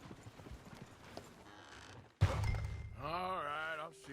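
Horse hooves in Red Dead Redemption 2 give a few faint clops at first, then a sudden loud thump and a close, wavering horse whinny toward the end.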